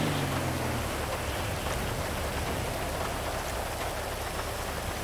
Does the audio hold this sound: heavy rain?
yes